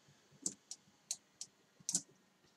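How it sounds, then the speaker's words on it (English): Computer keyboard keys and a mouse clicked while working in Photoshop, six or so crisp, close clicks in an uneven rhythm against near silence. "So I'm going to click P on the keyboard"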